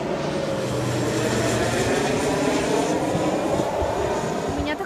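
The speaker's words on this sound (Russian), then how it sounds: "самолет." An airplane passes overhead in Israel, a loud, steady engine roar that fills the whole stretch, broad and continuous with a slowly shifting drone.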